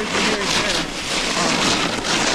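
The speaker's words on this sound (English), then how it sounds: "that noise you hear is the board on ice underneath this powder." A snowboard rides over hard, crunchy ice under a layer of powder on a bumpy slope, giving a steady, loud, broadband scraping rush with a wind-like hiss throughout.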